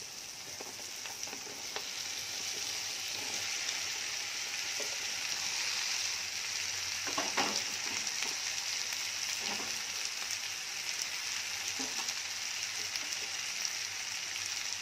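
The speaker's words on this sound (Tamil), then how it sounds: "இப்போ வந்து நான் கட் பண்ணி வச்சுருந்த கோவக்காவை இப்போ இதில் போட்டுடலாம்." Ivy gourd fries in a pan with sautéed onion and tomato, giving a constant soft sizzle with occasional clinks and scrapes of stirring, no voices.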